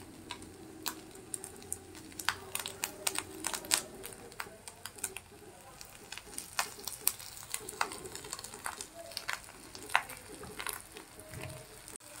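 Food fries in mustard oil, making a faint, steady crackle scattered with small sharp pops and ticks that continues throughout.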